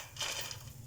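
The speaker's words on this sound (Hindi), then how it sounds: "ये देखिए, आप इनकी आवाज़ सुन सकते हैं कितने क्रिस्पी हैं ये" Crispy fried frozen french fries clatter and rustle on a plate in a home kitchen, a short, close burst of light crunchy rattling over a low steady background hum.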